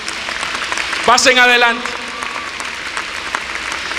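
Church congregation applauds during an evening Christmas service, a steady bed of clapping under which a preacher's voice speaks loudly for a moment before the clapping carries on alone.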